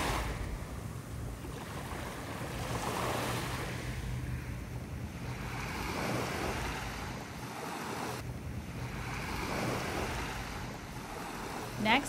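Surf and wind at Turquoise Bay beach on St Thomas, a steady wash of waves heard from nearby with gusting wind buffeting the microphone, rising and falling in broad swells without a break.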